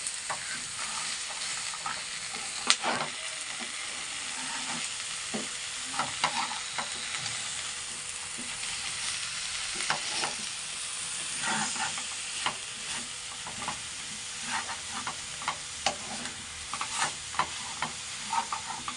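Village-style country chicken sambar sizzles and fries over a low flame while a spoon stirs it, with a steady soft hiss and scattered scraping strokes. Nobody speaks.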